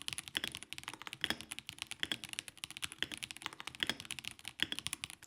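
Rapid typing on a wireless mechanical keyboard, crisp clacking keystrokes in a quick, uneven rhythm, close up with no voices.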